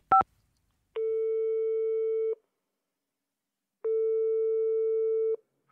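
Telephone tone heard while calling a French gendarmerie: two long, steady electronic beeps of about 1.3 seconds each, separated by silence and preceded by a short click. The tone is clear and close, with no talking.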